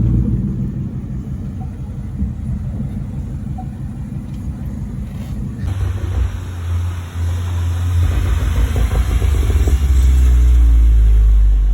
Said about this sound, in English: here's the second Mustang